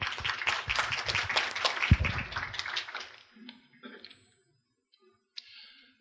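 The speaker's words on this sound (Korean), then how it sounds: "큰 박수로 맞아주십시오." Audience applause at an AWS IoT tech conference greets an LG Electronics speaker: a dense burst of clapping for about three seconds, then it thins out and fades into near silence with a few scattered sounds.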